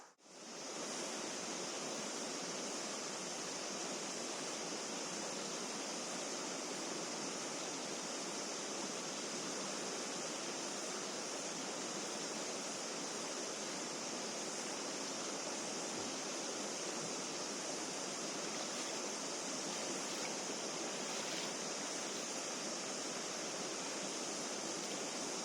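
A deep river runs through backcountry along a trail, its flow a steady, even rushing hiss that stays constant and unbroken throughout, with no voices over it.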